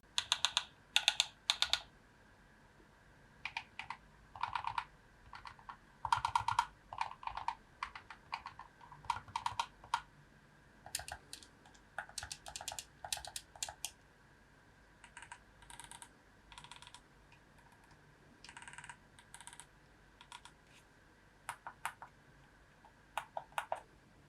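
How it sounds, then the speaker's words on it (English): Buttons on a standard Xbox controller and a GameSir Kaleid Flux controller are pressed in turn, giving bursts of crisp, close clicks, some rapid and some spaced out, with short gaps between the runs and no speech. "I'm going to give you an audio comparison between the standard Xbox controller and this one so you can have a listen"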